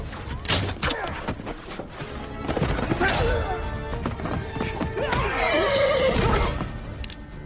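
A horse in a Western gunslinger film neighs and whinnies loudly while its hooves clatter in a quick, close clip-clop, with scattered sharp impacts and some background movement noise.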